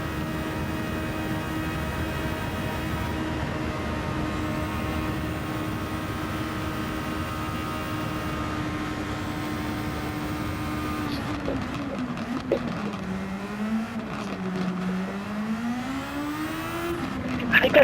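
Formula 1 car engine droning at a steady high pitch through a lap, then shifting and rising and falling in pitch as the car brakes and accelerates through corners, with a voice speaking briefly over it.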